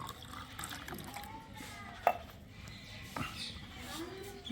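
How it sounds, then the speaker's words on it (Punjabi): Water splashes and trickles steadily into a bowl of green herbal mixture with rock salt, fairly quiet, with a brief clatter midway and a low murmur of background noise. "ਇਹਦੇ ਵਿੱਚ ਪਾ ਲੈਣਾ ਪਾਣੀ"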